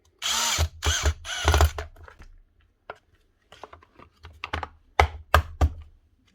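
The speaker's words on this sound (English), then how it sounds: "If you're using a drill, you don't round them out" A drill backs small screws out of the plastic housing of a Paslode IM360CI nail gun, with short bursts of whirring and ratcheting clicks separated by pauses, close and fairly loud.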